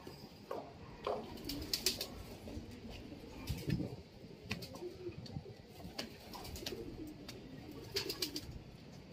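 Pigeons coo in low, soft, repeated murmurs outdoors, moderately near, with wind and faint background noise and a few brief higher sounds.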